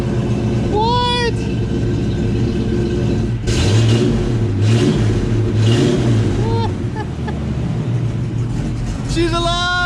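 A project car engine fires up for the first time, catching and revving loudly in bursts before settling toward a rough idle, close by, with excited voices talking over it.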